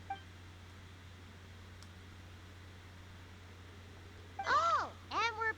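Machine in Genshin Impact emitting two short bursts of warbling electronic beeps near the end, after a long stretch of quiet hum.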